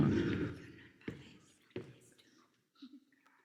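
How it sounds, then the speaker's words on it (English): Characters whispering around the player in a video game: soft breathy murmurs that start fuller, then thin into scattered faint whispers with brief clicks and pauses. "basically they're like whispering around you"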